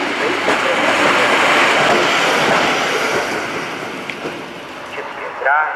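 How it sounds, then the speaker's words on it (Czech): A Czech Railways train pulls in at the platform at Chlumec nad Cidlinou station, a loud rumbling roar that fades toward the end. A station announcement is heard over it. "Společnost České dráhy ze směru Měsíc Králové přijíždí na kolej"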